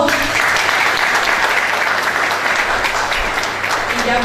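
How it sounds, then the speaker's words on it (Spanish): Loud, dense applause from an audience at a Semana de la Educación event, a steady wash of many hands clapping that fills the whole stretch without pause. "Un fuerte aplauso."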